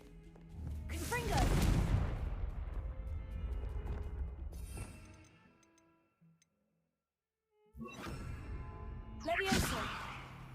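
A Confringo fire spell explodes in Hogwarts Legacy with a loud whooshing, crackling blast that swells and fades over several seconds, followed after a brief silence by further bursts of spell impact and debris.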